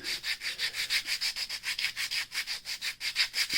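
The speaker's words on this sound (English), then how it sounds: "then just give them a little sand" Sanding strokes on small wooden miniature weapons crates lined up under painter's tape, a steady back-and-forth rasping rhythm of about twenty quick passes, close and fairly loud with no talk.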